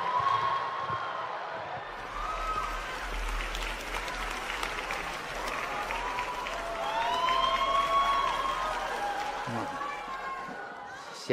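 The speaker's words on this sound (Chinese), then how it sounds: "掌声有请。" A live crosstalk comedy audience at a Deyunshe show applauds steadily as performers Zhang Helun and Lang Heyan come on stage, a sustained wash of clapping with a voice speaking over it.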